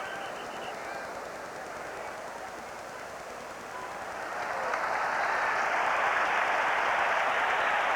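A large football stadium crowd roars in reaction to a penalty call during a Saints–Giants game, the broad noise rising and swelling louder midway and holding at full volume.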